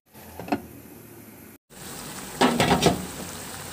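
Carrots, Baguio beans and bell pepper sizzle softly in a covered pan, a steady close frying hiss with a brief clatter partway through, then louder bursts of sizzling and lid or utensil clinks.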